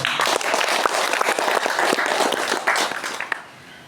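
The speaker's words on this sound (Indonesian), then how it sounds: "Tepuk tangan." Audience applause at a community gathering in a temple pavilion, a dense wash of many hands clapping steadily and fairly close, tapering off near the end.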